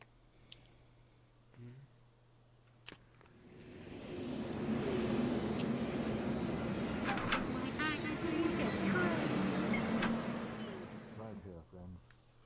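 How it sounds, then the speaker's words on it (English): A train pulls into a station inside the VRTravelers VR game, a broad rumbling roar that swells from about three seconds, holds steady with faint high squeals, then fades near the end, with brief clicks at either side. "board the train altogether when it arrives"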